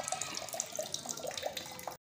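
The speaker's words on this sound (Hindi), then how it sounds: "यहाँ पर मैं जग में पानी भर रही हूँ कूलर से" Water pours from a water cooler into a jug, a steady close splashing trickle with bubbly gurgles that runs continuously and then cuts off abruptly at the end.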